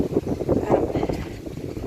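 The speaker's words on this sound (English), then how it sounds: "I do apologise for the wind, it's quite windy today." Strong gusting wind buffets the microphone outdoors on a rural property with chicken pens, a steady low rumble with surges, under a voice speaking.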